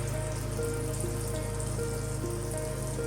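Unniappam batter sizzling in oil in the wells of an appam pan, a steady close crackle and hiss of frying that runs on without pause.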